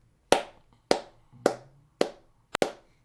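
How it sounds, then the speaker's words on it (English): Five sharp hand claps in a quiet room, four evenly spaced and the last two close together, each crisp and near with a short decay. "5 claps."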